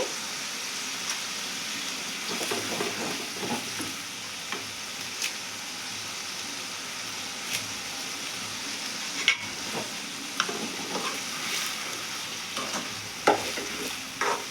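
Curry leaves frying in a pan of dried-fish tomato curry, a steady soft sizzle running throughout with occasional scrapes and clicks of stirring, fairly quiet and even with no voices.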